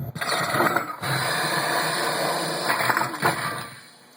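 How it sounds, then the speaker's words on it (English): A Ghostbusters proton pack prop's vent sound effect: a steady mechanical hiss and rattle runs for several seconds, with a brief break near the start, then tapers off at the end. "I can get the vent sound effect going on"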